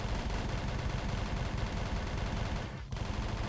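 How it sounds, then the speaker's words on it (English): Dense, continuous gunfire from a group of guns all shooting at once in the RimWorld Medieval Overhaul video game, loud and unbroken with a brief dip near the end. "we have them all shooting all at once. I feel like that's probably pretty loud."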